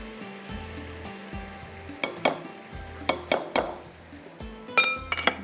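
Ghee poured into a frying pan with melted sugar, soft sizzling under a low hum, broken by several sharp metallic clinks of a spoon against the pan, no talk.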